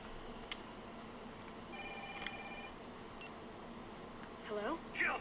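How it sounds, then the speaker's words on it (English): A telephone rings in the Resident Evil 3 Remake video game, a faint electronic ring tone repeating through quiet background ambience. "To the phone. Who could that be?"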